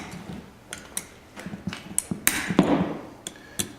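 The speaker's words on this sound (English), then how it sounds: "we're going to take these Allen bolts off here" Allen bolts come out of a Kaivac cleaning machine's pump in small metallic clicks and ticks, with tool taps and a brief rattling scrape, close and quiet.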